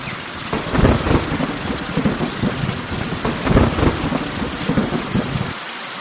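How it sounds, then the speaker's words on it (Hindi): Heavy rain pours down over farm fields, a dense, loud roar of rainfall with deep rolls of thunder swelling twice, no voices. "लेकिन कुछ ही दिनों बाद फिर से तेज बारिश शुरू हो गई।"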